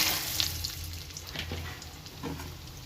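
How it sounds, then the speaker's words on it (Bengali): Bori, homemade lentil dumplings, frying in hot oil, giving a soft continuous sizzle with a few light crackles and small stirring clinks, heard close and alone. "এই তেলের মধ্যেই বড়ি কটা ভেজে"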